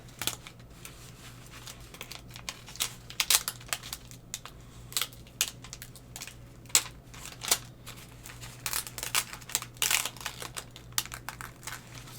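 Crinkly peeling and picking of Cricut vinyl during weeding for a Valentine gnome mug design, with soft scattered crackles and small ticking snaps at a close, quiet level over a steady low hum, no talking.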